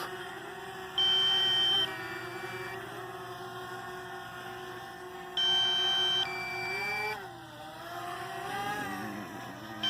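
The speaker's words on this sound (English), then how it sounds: "it's beeping because it's gonna run out soon" Two short bursts of high electronic low-battery beeping from a drone ring out over a steady, whirring motor hum that wavers in pitch.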